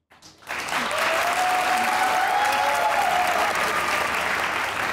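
Studio audience at a comedy show bursts into loud, sustained applause after a brief quiet moment, with a few cheers and a whistle-like tone rising over the steady clapping.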